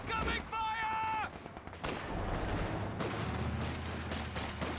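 Gunfire in a 1v1 real-time strategy game match, dense crackling volleys and bursts of shots under game sound effects and a narrating voice, steady and loud throughout.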